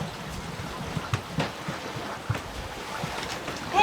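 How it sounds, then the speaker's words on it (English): Wind gusts across a sailboat at sea, a rough rushing roar over the microphone with several sharp buffeting bursts, close and moderately loud. "Oh, here comes the wind."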